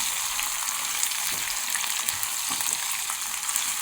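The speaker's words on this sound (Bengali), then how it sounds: "তেল যখন গরম হয়ে আসছে এর মধ্যে আমি কিছু ক্যাপসিকাম এবং পেঁয়াজ কাঁচামরিচ এরকম করে কেটে কিউ কিউ করে কেটে ভেজে নিচ্ছি" Cut capsicum, onion and green chillies fry in hot oil, giving a loud, steady sizzle that continues throughout with faint stirring knocks underneath and no talking.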